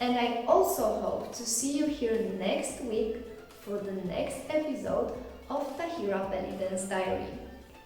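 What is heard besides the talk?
No everyday noise stands out behind the speech.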